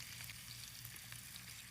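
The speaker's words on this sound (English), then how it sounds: "Yeah, you want to hear that sizzle." Potatoes fry in a hot pan, giving a steady, even sizzle with light crackling throughout and no talk.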